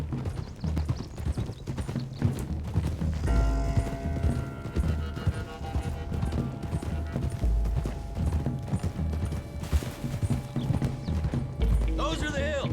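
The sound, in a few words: horses' hooves galloping in Red Dead Redemption 2 video game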